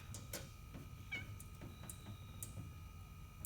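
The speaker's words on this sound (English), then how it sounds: "A little help from my cat." A cat meows several times in a garage setting during work on a 1980 K5 Blazer, with short, fairly faint calls spread across the moment over a low background hum.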